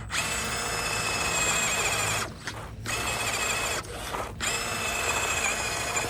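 The small electric motor of an 8x8 Terranaut 1/18-scale RC crawler whines steadily as it strains uphill in low gear, cutting out twice in brief gaps before resuming, with no voices.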